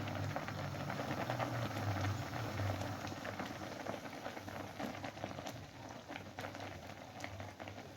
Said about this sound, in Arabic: ده بقى الفول غلي اهوت